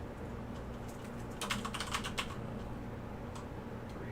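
Someone types on a computer keyboard, a faint burst of quick clicking keystrokes in the middle, with a few isolated taps before and after over a quiet room hum.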